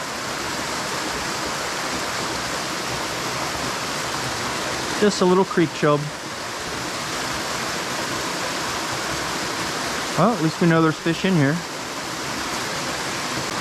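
Steady broadband rush of a small waterfall on a trout stream runs through the whole stretch, loud and close, with someone talking over it twice.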